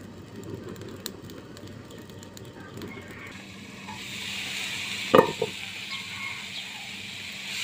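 Leafy greens cook in a covered pan, a soft stirring rustle giving way to a louder, steady steamy sizzle, broken by a single sharp clatter midway, with a voice talking faintly at the start.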